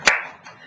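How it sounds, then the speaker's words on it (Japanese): A sharp burst of clapping rings out in a church during a harvest thanksgiving service, one loud hit fading quickly into the room's reverberation. "神様の感謝、その拍手を皆さんにしてください"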